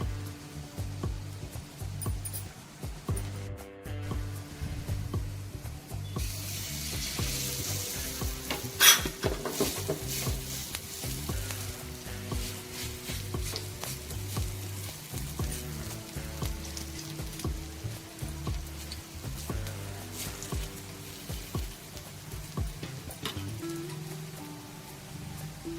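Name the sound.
frying a kailyachi vadi (colocasia leaf roll) in oil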